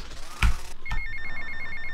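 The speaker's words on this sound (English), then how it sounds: "just take the phone call when you're there right away" A phone rings in GTA: Vice City with a short electronic trill that repeats quickly and steadily after a couple of clicks.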